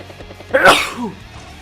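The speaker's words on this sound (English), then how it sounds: "Sneeze." A single sharp, loud sneeze bursts out close to the mic, followed by a faint breathy tail, heard over a quiet background.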